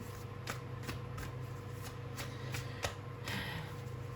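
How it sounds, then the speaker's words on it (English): Tarot cards being shuffled by hand for a reading, close and crisp, with a quick run of riffling bursts about every third of a second and no talking. "I just want to get shuffle some cards and see what is your person actually going through right now"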